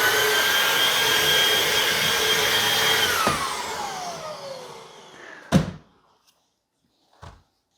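Shark Wandvac handheld vacuum running loudly with a harsh high whine, then its motor winds down and cuts off; a couple of clunky handling knocks follow in the quiet.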